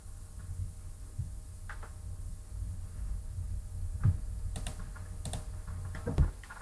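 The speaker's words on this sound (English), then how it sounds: "So as I try to type the job title" Typing on a computer keyboard, quiet scattered key clicks in irregular bursts over a low steady hum, close by with no voices.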